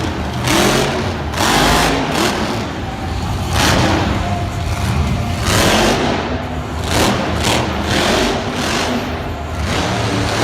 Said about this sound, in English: Truck certainly sounds better than any of the other ones